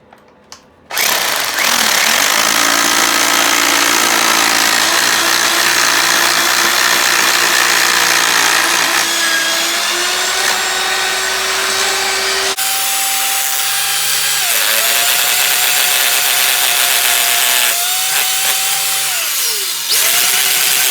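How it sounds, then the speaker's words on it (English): A hammer drill fitted with a 3/16 inch bit whines loudly and steadily up close while boring holes near a rusty old toilet flange, its pitch shifting under load, with a short pause before a second sustained run. "Okay, we're going to drill these holes out really quick."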